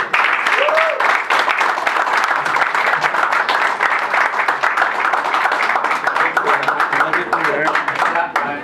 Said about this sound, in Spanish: nos damos a todos un aplauso